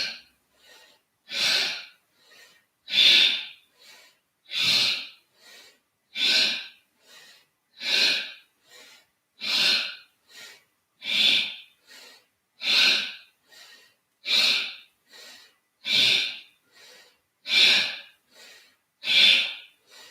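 Slow, deep inhales and exhales during a Kundalini yoga exercise, a steady even rhythm of about a dozen close, clear breaths with nothing else heard.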